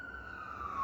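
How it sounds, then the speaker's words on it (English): An emergency vehicle siren sounds outside as a steady high wailing tone, slowly gliding in pitch over a low rumble of traffic, heard briefly and moderately faint. "sorry, the sirens."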